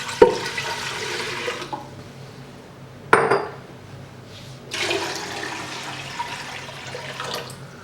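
Two quarts of water poured into a container for pickling brine, a steady splashing rush for the first couple of seconds, a sharp clatter, then another longer pour, close and alone.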